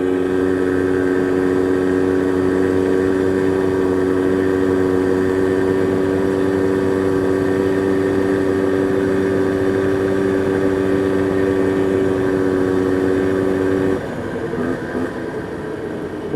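A first-model Polaris ATV engine drones loudly and evenly for about fourteen seconds, then drops off to a lower, rougher idle.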